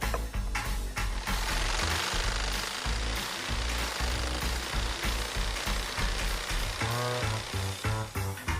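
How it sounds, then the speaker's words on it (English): A saber saw, the blade clamped to a table, chatters through a wooden wind turbine blade in a loud, rapid, continuous buzz with brief pauses and shifts in pitch as the cut progresses. "I'm actually going to use my saber saw and just clamp it to the table, do half the cut"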